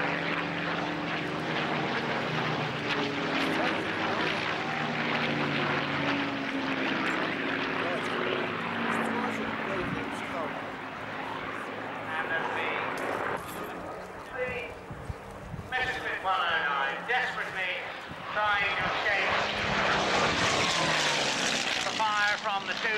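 Supermarine Spitfire propeller fighter at an air show at Alconbury, its engine a loud continuous drone that swells and shifts over about twenty seconds, with voices talking over it.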